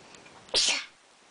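A single sharp sneeze bursts out briefly in a quiet room, then fades back to near silence.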